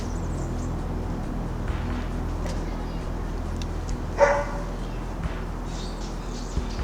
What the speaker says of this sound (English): This dog's barking at me.